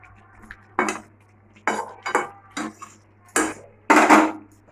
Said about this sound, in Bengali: মাংসটা আমরা একটু লাড়া দিয়ে দেবো।